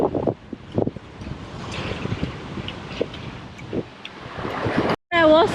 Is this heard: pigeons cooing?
no